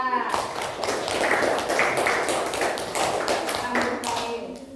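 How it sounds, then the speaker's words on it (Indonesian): Schoolchildren at an elementary school clapping in a crisp, continuous burst of many small hands, fairly close, with voices mixed in under the claps. "Tepuk tangannya untuk kelompok 2."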